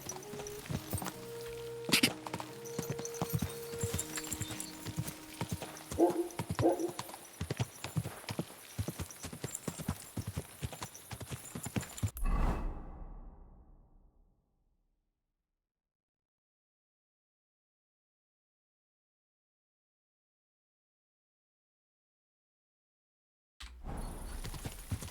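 Rhythmic horse hoofbeats in the video game Kingdom Come: Deliverance II clip-clop at a steady walking pace, loud and close, then fade out into silence before a sound briefly returns at the end.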